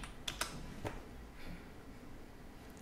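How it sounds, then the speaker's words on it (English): Typing a Google search on a computer keyboard: a quick run of light, close key clicks with a few sharper taps, then softer, sparse keystrokes over a quiet room. "if we go to Google, we're going to type in bootcamp near Nutley, New Jersey"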